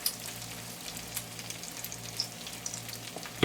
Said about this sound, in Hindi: अच्छी तरह से इसको मसालों को फ्राई करेंगे। फ्लेम को हाई पे कर लें।